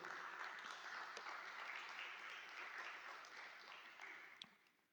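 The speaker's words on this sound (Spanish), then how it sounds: "Dale un gran aplauso al Señor." A church congregation at a Tuesday evening service claps for the Lord, sustained and dense but faint and distant, slowly tapering at the end.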